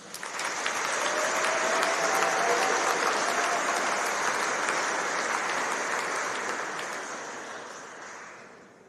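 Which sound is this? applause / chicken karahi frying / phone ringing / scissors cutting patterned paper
applause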